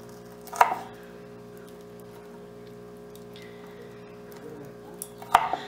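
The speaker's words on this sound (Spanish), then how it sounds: "cortar un poquito de eh, cebolla picadito para freír nuestros frijolitos" Onion is chopped for frying beans, two distinct knife strikes on a board a few seconds apart over a quiet steady hum, with no talking.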